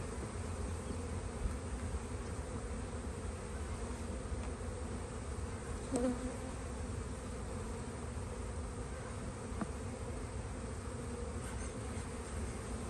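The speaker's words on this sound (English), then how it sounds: "Loads of bees, bees everywhere, springtime conditions, nectar flow." Honey bees buzz around an open hive during a spring nectar flow, a dense continuous hum that stays steady and close, with a brief louder buzz passing near.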